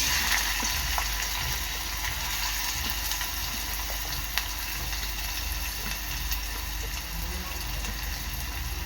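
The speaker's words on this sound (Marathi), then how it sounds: "आता इथे मस्तपैकी तेल गरम झालेलं आहे आता मी टाकणार आहे कांदा" Onion drops into hot oil for a Koli-style dried karandi prawn dish, setting off a steady, bright sizzling hiss that runs the whole time with a few faint pops and no speech.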